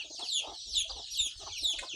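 Chickens cluck close by on a farm in the early morning, with a few repeated short squawks and clucks in an irregular rhythm against a quiet background.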